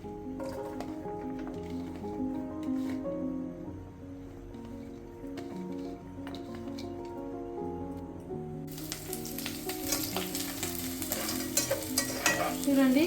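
Chopped onions frying in a pan and being stirred, a soft sizzle with scraping and squishing that grows louder and brighter toward the end, with music playing underneath.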